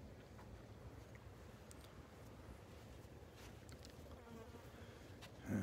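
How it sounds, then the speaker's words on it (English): Flies buzz faintly on a calm beach, a steady low drone mixed with soft surf and breeze, with a brief bump of noise at the end. "Flies are buzzing around again."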